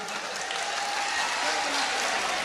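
A live audience at a Hindi-language recital bursts into brief, dense applause, a thick, even wall of many hands clapping at close range.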